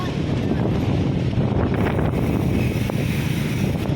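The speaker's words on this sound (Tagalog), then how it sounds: "dahil napakalakas yung hangin" Strong wind buffets the microphone during a ride along Roxas Boulevard, a loud, continuous low rumble and roar that swamps everything else.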